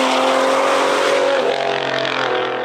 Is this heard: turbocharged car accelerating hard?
yes